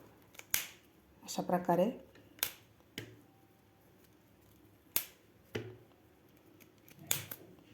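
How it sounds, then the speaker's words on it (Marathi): Several sharp, separate chops of a knife slicing through fresh cauliflower into thick pieces ring out on a board, spaced irregularly, with someone speaking briefly between the cuts. "आता आपल्याला हे जाड जाड पीसमध्ये आपल्याला कट करायचा आहे फ्लावर."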